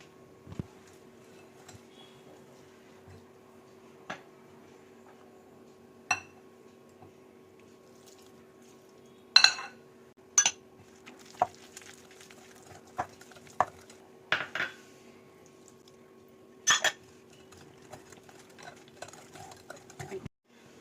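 Maida and milk cake batter is mixed lightly in a bowl. Sparse utensil clinks and soft scraping taps come at irregular intervals over a quiet background hum, with no talking.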